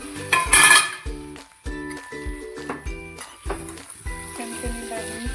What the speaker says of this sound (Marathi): पाच ते सहा मिनटानंतर झाकण काढूया